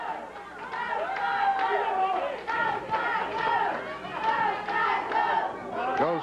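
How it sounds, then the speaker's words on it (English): Crowd at a 1995 USWA TV wrestling match chanting "Scott go" in a steady repeated rhythm, a loud mass of voices filling the arena throughout. "Scott go, says the crowd."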